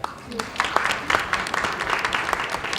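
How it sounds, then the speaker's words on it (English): A conference audience at a women entrepreneurs' event gives a round of applause, brisk clapping from many people, close and moderately loud, with voices mixed in. "Please give her a big clap."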